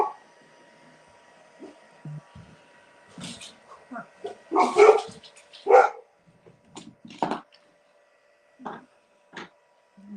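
Golden retrievers bark at a delivery arriving at the door, several loud bursts of barking and yips, close by, scattered irregularly across the clip with a brief whimper between them.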